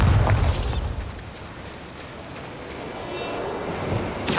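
Bombarda blasting spell exploding in Hogwarts Legacy on Switch, a loud boom at the start that decays into a long rumbling tail, with a second burst rising at the very end.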